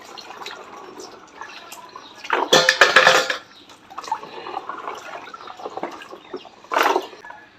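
A glass jar for tamarind pickle clinks and clatters as water sloshes and splashes inside it, in two louder bursts of rinsing with fresh water between quieter handling.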